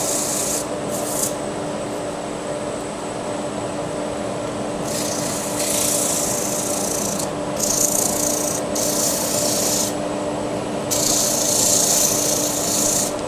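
Sandpaper of 100 grit rubbing a turned wooden lamp spinning on a lathe, a loud continuous raspy hiss over the steady hum of the lathe, swelling in bursts as the paper is pressed on.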